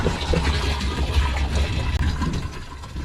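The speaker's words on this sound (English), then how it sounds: "Guess we'll get some water in this tank." Water pours from a hose into a farm water tank, a steady close rushing and splashing that fills the whole stretch with little change in level.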